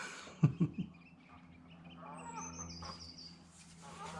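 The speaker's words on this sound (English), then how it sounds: "The geese are very noisy." Geese call at a lake with three quick, loud honks close by, followed by quieter distant honking and bird calls over calm background.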